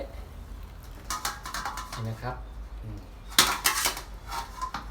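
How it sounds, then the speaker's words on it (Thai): Stewed beef ladled from a pot in a home kitchen, giving a string of metallic clinks and scrapes of a ladle against the pot, close and fairly loud, with someone briefly speaking between the knocks. "ตักเนื้อนะครับตักเนื้อที่เราต้มไว้"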